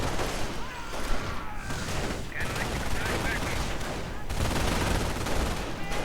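MG42 machine gun fire in a WWII strategy video game: dense, loud, continuous rattling bursts mixed with other battlefield gunfire and explosions, with faint voices underneath.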